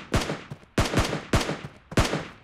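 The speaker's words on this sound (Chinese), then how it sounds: "我听到枪声" Four sharp gunshots ring out at a steady rhythm, each with a quick decaying tail, in a browser-based PUBG clone video game, fairly loud and without talk.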